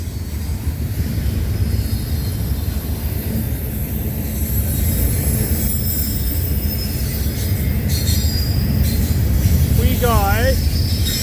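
A CN intermodal freight train rolls past at night near Cobourg VIA Station in Ontario, a steady loud rumble of wagons with a brief wheel squeal near the end.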